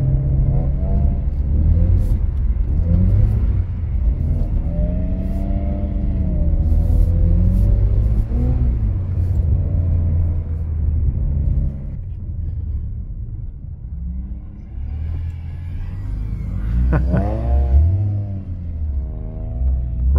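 A rear-wheel-drive BMW E46 drifts on snow, its engine droning and rising and falling in pitch as the throttle is worked, heard close and loud from inside the car with a steady road rumble underneath.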